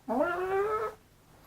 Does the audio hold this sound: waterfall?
no